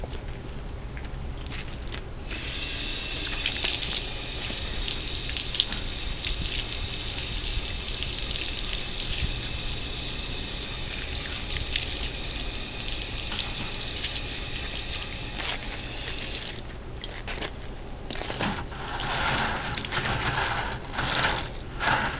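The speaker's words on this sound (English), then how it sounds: "Let's wash it off a little more since we've got sand all over it." Running water from a hose steadily washes sand off a septic drain hose on a Minnie Winnie motorhome, a continuous close gushing and splashing that roughens and patters more toward the end, with no talk.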